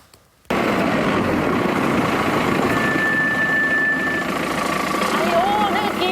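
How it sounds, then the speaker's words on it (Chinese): Car brakes give a thin, high squeal of about a second and a half as the vehicle stops, over a steady engine rumble and background noise. "接下来我们来看看刹车的异音，一起来听听看。"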